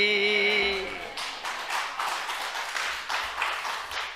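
An audience in a church service claps after a hymn ends; a sustained sung note fades out first, then a dense, moderately loud patter of many hands follows, swelling and easing in uneven waves.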